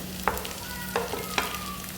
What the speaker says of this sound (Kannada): ಈರುಳ್ಳಿ ಟೊಮೆಟೊನ ಫ್ರೈ ಮಾಡ್ಕೋಬೇಕು